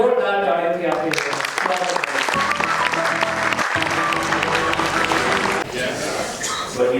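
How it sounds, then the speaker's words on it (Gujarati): An audience at a session of the Utkranti 2023 event bursts into loud, dense applause welcoming a speaker, sustained clapping that swells and carries on with voices mixed in before tapering near the end. "અમિતભાઈ ભવાણીને જોરદાર તાળીઓથી આપીએ છીએ."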